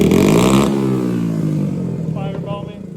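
A 40-year-old custom Z80R motorcycle motor revs hard, then drops back to a rough, lumpy idle, close and loud, with a voice talking over the engine toward the end.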